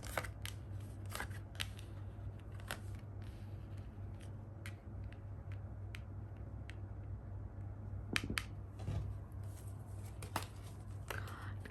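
Tarot cards being shuffled and drawn during a love reading, giving soft papery flicks and taps scattered through the clip over a steady low hum, with a few sharper snaps near the end.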